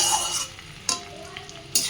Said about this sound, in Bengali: সব একসাথে দিয়ে দিলাম। দিয়ে এগুলো ভালো করে ভেজে নেব।